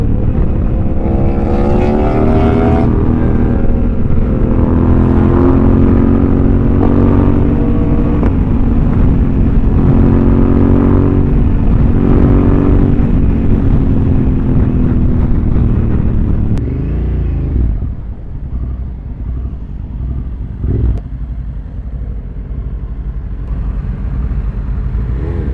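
A Honda Africa Twin motorcycle ridden hard and accelerating, a loud, close engine roar rising through the gears for about seventeen seconds, then easing to a lower, rougher idle-like drone with wind noise, no talk.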